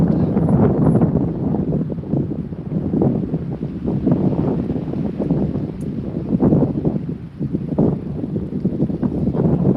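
Heavy wind buffets the microphone outdoors on a city walk in Raleigh, a loud, continuous low rumble with gusty surges throughout.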